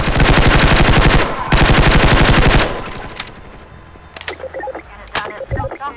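A Thompson submachine gun in a Half-Life mod fires two long, loud, rapid automatic bursts with a brief pause between them, then a few scattered clanks and clicks follow.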